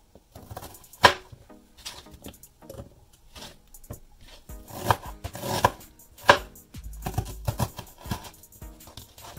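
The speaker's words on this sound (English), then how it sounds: "So that's why I'm cutting the ginger." Knife chopping fresh ginger into pieces on a board, with irregular sharp taps, some single and some in quick clusters, close and fairly loud with quiet gaps between.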